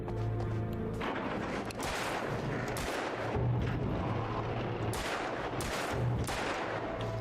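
Gunshots fired at a chain in Alan Wake, several heavy booming reports spaced a second or two apart over a dark, rumbling background.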